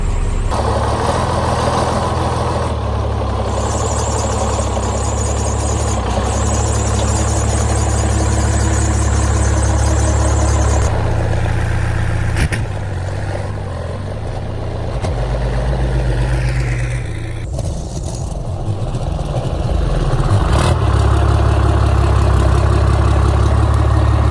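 A squarebody truck engine idles steadily and loudly as it is eased into a parking spot, the low rumble continuous throughout with slight shifts in tone as it moves.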